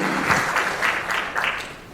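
An audience at a pansori lecture welcomes a master singer with warm applause, a short burst of clapping with uneven swells that fades slightly toward the end.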